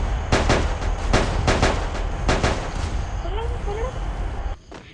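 Bursts of gunfire from a Free Fire mobile battle game in several quick volleys over a steady rumbling game background, with a few brief electronic tones near the end.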